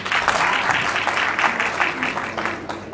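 Hearty applause rolls through the crowd at an awards-ceremony comedy show, a thick, continuous clatter of many hands with slight surges, carrying on alone for a few seconds.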